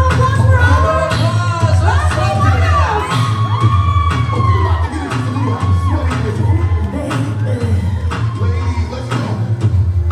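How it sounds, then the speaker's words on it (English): A fashion show audience cheers and shouts loudly throughout, with children's voices, whoops and raised calls over a steady crowd roar and a thumping music beat underneath. "a round of applause for all"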